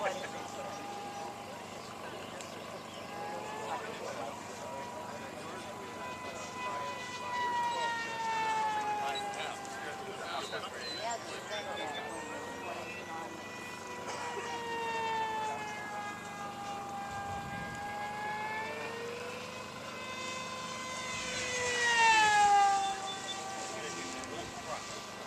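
A model airplane engine drones overhead during control checks and aerobatic maneuvers before a full-speed power run at a club open house, its pitch rising and falling as it passes, fairly distant, with people talking throughout.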